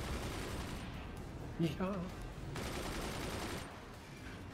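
Weapon fire in the Forts multiplayer strategy game keeps up a dense, noisy barrage of blasts and crackle, with someone briefly speaking over the battle.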